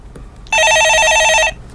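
A telephone rings once in a short electronic trilling burst during a live Korean stock-market call-in broadcast, loud and clear over a quiet studio background with no voices.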